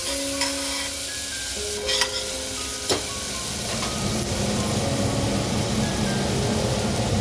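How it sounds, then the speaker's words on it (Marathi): Steady sizzling and crackling of chopped onion, cumin and mustard seeds frying in hot oil, with a few scraping stirs of a utensil against the pan, close by and continuous. "त्यात जिरे, मोहरी, बारीक चिरलेला कांदा चांगला परतून घ्या"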